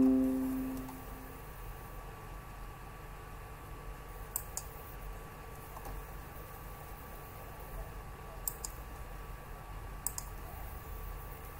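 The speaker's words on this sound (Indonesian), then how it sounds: "Kemudian klik record." A few sharp, faint computer mouse clicks spaced several seconds apart over a quiet room hum, starting a screen recording in Google Chrome.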